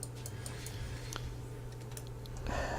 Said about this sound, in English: Normally what I'm doing is I'm clicking the screen.